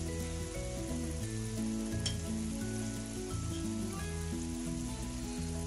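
Half-browned onions with red chili and chili flakes frying in a pan for Lahori chikar cholay, a loud continuous sizzle with stirring, heard alone with a steady background hum.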